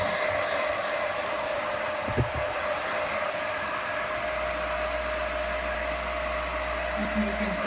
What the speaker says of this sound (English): This unfortunately is my good hair dryer, but it's doing the job for right now.